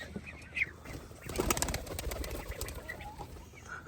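Pigeons calling outdoors, with soft cooing and scattered chirps over a steady ambient background, moderately distant.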